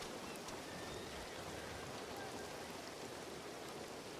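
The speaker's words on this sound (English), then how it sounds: "And rain." Steady rain falls in the WildRP game world, a dense, even hiss of drops on surfaces that holds constant throughout, with no talk over it.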